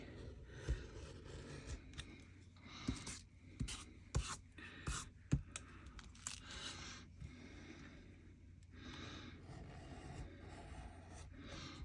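Paper being trimmed for a junk journal, a series of faint close scraping and cutting strokes with light taps and rustles in a quiet room.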